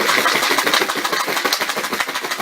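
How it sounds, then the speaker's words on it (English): Metal parts rattle and clatter inside a tub of WD-40 being shaken by hand, a dense, rapid, rhythmic jangle that is close and steady throughout. "the rattling of the parts on the inside of the tub, combined with the WD-40"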